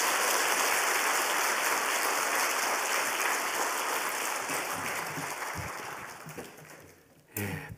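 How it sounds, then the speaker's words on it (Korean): Church congregation at a Wednesday service clapping to welcome the pastor, a sustained wash of many hands that gradually fades out, with a voice briefly heard at the end. "박수로 환영하겠습니다."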